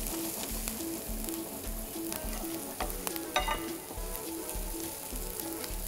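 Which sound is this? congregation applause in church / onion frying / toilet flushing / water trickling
onion frying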